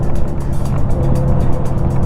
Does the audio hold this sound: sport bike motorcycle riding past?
yes